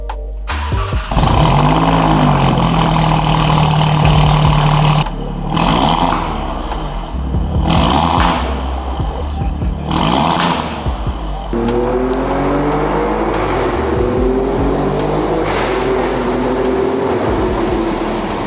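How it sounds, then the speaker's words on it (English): An Alfa Romeo Giulia Quadrifoglio's engine and exhaust rev in several loud bursts, pitch climbing and falling with each throttle blip, then a long sustained pull as the car accelerates, all close and with no talking. "This is the best sounding car I have ever driven."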